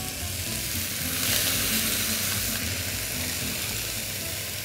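Minced meat sizzling and frying steadily in a hot pan over caramelized onions, a continuous close crackle with some stirring and no talk.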